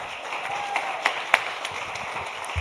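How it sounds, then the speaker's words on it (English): Scattered, moderate applause from an audience at a cystic fibrosis fundraiser awards ceremony, with a few distinct sharp claps over a soft background of clapping. "Round of applause for you guys, too."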